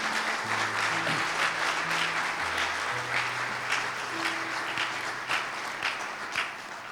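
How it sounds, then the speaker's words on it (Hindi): A church congregation claps for Jesus, dense sustained applause with crisp hand claps throughout, fairly loud and even, while low sustained organ or keyboard tones play beneath and no one speaks. "जोरदार तालियां खुदावंद यीशु के लिए।"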